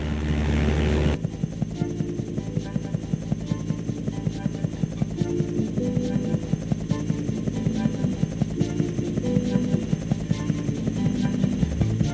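Biplane engine droning overhead in the video game Thomas & Friends: Trouble on the Tracks, a continuous buzzing propeller hum with rhythmic pulsing beneath game music.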